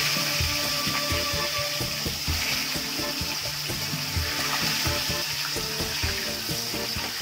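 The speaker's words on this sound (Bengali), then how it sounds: "এবার আমি মাছগুলোকে ভালো করে উল্টে পাল্টে লাল করে ভেজে নেব।" Fish frying in smoking hot oil in a wok, giving a loud continuous sizzle with dense crackling pops that keeps going steadily from start to finish, with no voice over it.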